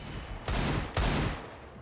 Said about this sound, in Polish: To jakieś normalne strzały.